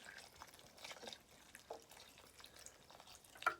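Filtered water poured into a pot for oatmeal, a soft, steady trickling and splashing that stays faint and close, with a slightly brighter splash near the end.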